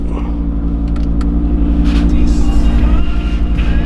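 An Audi RS3 Sportback engine rumbles loud and steady with a deep low drone, swelling slightly toward the end, while a person talks over it.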